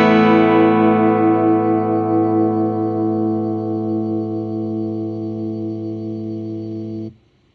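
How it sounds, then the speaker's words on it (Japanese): A distorted electric guitar chord rings out through a Free The Tone IG-1N integrated noise gate, sustaining loudly and evenly for about seven seconds before the gate cuts it off abruptly into silence. "それではフリーザトーンのノイズゲートを使ってみたいと思います"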